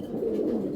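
A grizzle pigeon gives a short, low, burbling coo nearby, one brief continuous phrase with no talking over it.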